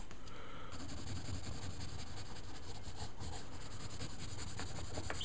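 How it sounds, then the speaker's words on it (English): A pen or pencil on a drawing journal page, close and quiet, with continuous rubbing strokes and scratchy lines in an irregular rhythm and no talk. "it's just me drawing in my drawing journal type thing"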